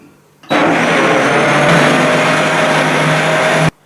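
A blender roars loud and steady for about three seconds, whirring through raw green vegan soup, then cuts off abruptly.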